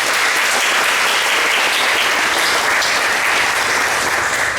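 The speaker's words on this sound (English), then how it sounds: "Give them a round of applause if you would." A large crowd at a school moving-up ceremony gives loud, sustained applause for the school staff, a dense unbroken wash of clapping for several seconds.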